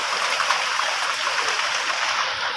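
Light rain falls steadily outdoors in a breeze, a soft, even hiss with no voices and no change in intensity over the few seconds.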